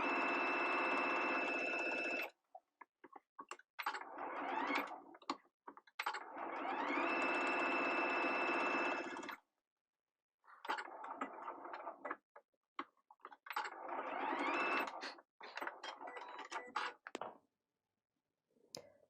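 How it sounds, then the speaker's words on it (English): Sewing machine stitching a tight 2 mm seam around the window of a passport wallet, running in three long steady bursts with short stops and clicks between them, close and loud with no talk. "Let's take this to the machine and sew with a tight stitch."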